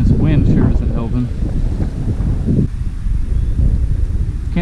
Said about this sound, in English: This wind sure isn't helping.